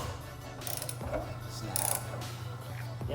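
A socket ratchet loosens bolts on a C8 Corvette during a LeMans Edition exhaust install, giving soft, fast clicking and mechanical rattles under a steady low workshop hum.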